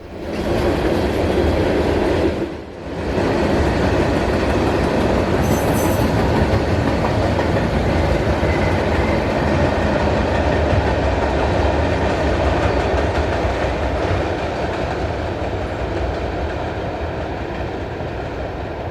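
Freight train M515 rolls past in northwest Georgia, a loud, close, continuous rumble with clickety-clack of wheels over rail joints lasting the whole stretch.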